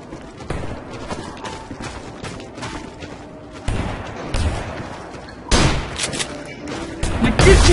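Gunfire in the video game Ballistic, with titanium bullets: a rapid string of sharp shots and impacts, growing louder in bursts toward the end and sounding alone without speech.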